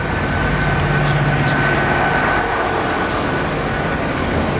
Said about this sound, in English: So this is my Great Western Railway train just coming in.